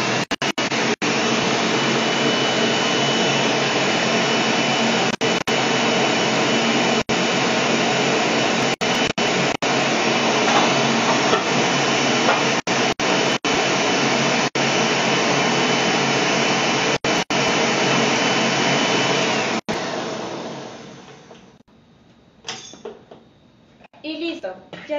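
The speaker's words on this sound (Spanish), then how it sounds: "Llego nuevamente a licuar." A blender whirs loudly and steadily as it blends whole milk for a yogurt gelatin, running continuously for about twenty seconds before it shuts off and fades into quiet handling noises.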